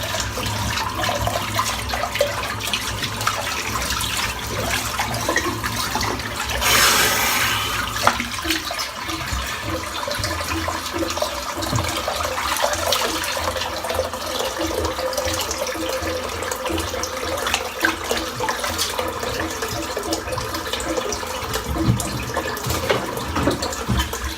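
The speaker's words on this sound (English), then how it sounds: "Just rinse this sink out again because it's back full of water once again." Running tap water rinses shaved hair out of a bathroom sink, a loud, steady splashing gush that runs without a break, with a brief brighter surge of spray partway through.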